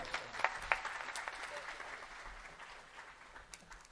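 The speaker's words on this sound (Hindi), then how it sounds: "जोरदार ताली बजाकर इनका स्वागत करें।" Applause from an audience welcoming a guest at a Bhagwat Katha religious gathering at a temple in Raipur, steady clapping at moderate volume that gradually fades, with a few sharper claps near the start.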